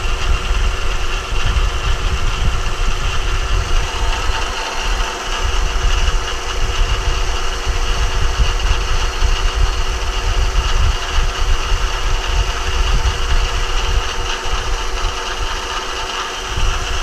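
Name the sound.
CNC machine cutting with a one-inch carbide cutter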